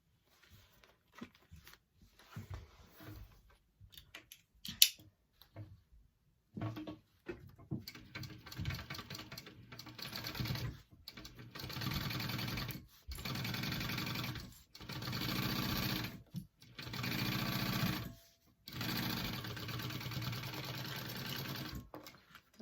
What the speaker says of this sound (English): you're going to go ahead and sew that on, 1/4 inch seam allowance